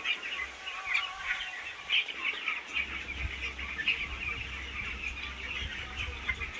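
Many chicks chirp in a continuous high twittering chorus, raised on sand, with a low hum running underneath.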